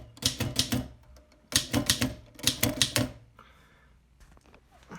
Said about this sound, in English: Let's get a look at this typing action.